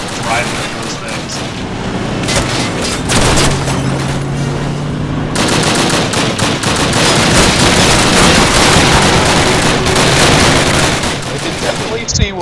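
Rapid submachine gun fire in the World War II shooter Call of Duty during the St. Mere Eglise car chase, with dense continuous bursts, booms and explosions filling the mix and speech running underneath.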